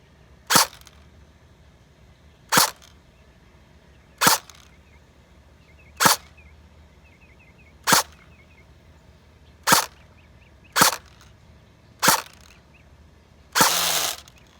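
An E&L AK105 airsoft rifle fires BBs in semi-auto: eight sharp, loud single cracks spaced about two seconds apart, then a slightly longer, rougher burst at the end, with no talking over a quiet background.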